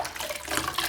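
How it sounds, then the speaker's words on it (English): A kitchen knife is rinsed and wiped in a sink full of soapy washing-up water, giving a brief, close wash of splashing and trickling water. "so handy having a sink full of washing up liquid, washing up water"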